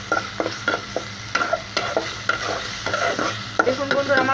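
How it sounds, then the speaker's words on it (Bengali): Prawns fry with ginger-garlic paste and onion in a pan, with rhythmic spatula scrapes and stirring knocks repeating over a steady close sizzle. "এখন আমি আদা রসুন বাটা চিংড়ি মাছ পেঁয়াজের সাথে ভালো করে"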